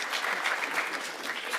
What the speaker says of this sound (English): give them a final round of applause as they go out